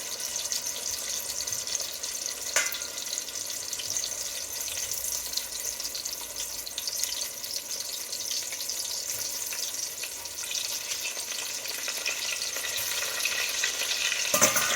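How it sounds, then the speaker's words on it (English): Pork trotters brown in bacon fat for a Quebecois stew, giving a continuous, even sizzle and crackle close up. It holds steady throughout with only faint clinks and no voices. "Smells delicious because it's pork cooking in bacon fat."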